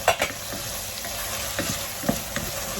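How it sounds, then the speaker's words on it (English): Eggplant cooking in a pan with olive oil and a little liquid, giving a steady sizzle with steam, broken by a few stirring scrapes and clicks near the start and end, close and with no talk. "The eggplant are steaming, and so the liquid is helping to cook them without too much olive oil."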